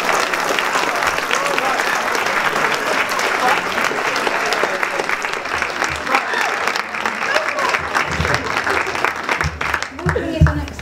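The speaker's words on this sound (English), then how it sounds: "big round of applause for" A school audience gives a long, steady round of applause that fills the room at an even loudness for about eleven seconds, with a few louder bumps near the end.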